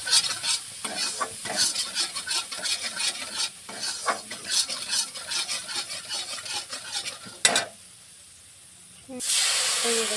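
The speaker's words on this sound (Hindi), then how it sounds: "इसमें जो है ये सरसों का पिसा हुआ जो पानी था, और ये पानी है इसमें हम डाल देते हैं" Ground mustard water poured into a pan of potato curry, the frying breaking into a loud steady sizzle and hiss with stirring scrapes, then a sharp burst of steam near the end.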